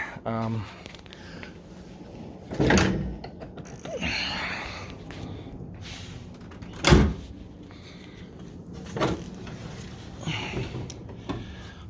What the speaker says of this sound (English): So the wiper door is electronic. that opens that up.